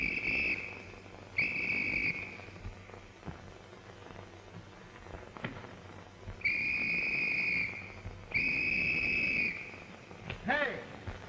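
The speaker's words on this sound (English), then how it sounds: "was you blowing a whistle?" A whistle blown several times in an old 1932 mystery film: long, steady, shrill blasts, two near the start and two later, fairly loud against a quiet, crackly background.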